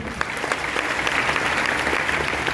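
A crowd at a DXN business meeting breaks into loud, steady applause, dense clapping filling the whole stretch with no talk over it.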